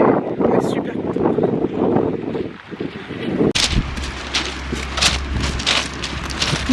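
Wind gusts buffet the microphone at the seaside in Le Havre under a grey sky, with rough low rumbling and bursts that intensify midway, alongside brief voices.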